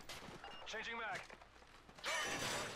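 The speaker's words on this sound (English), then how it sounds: "Changing mag." Gun magazine reload in MW3 Spec Ops, a quick run of metallic clicks and rattles followed by a louder clack, with game effects and a voice beneath.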